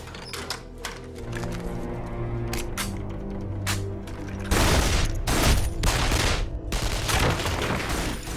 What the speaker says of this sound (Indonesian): Visser segera melawan para tentara bayaran tersebut menggunakan senjata yang ada di rumah Rudy